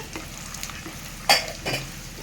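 Roasted gram dal (putnalu) frying in a pan for puffed-rice upma, a soft, steady sizzle with a couple of sharp spoon scrapes against the pan near the end, no talking.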